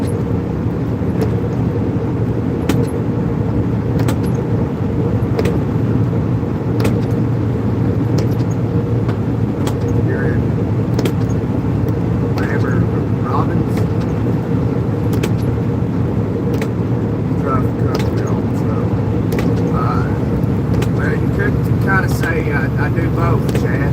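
A company truck drives along a road near Macon, Georgia, giving a loud, continuous engine and road rumble throughout, with voices talking over it.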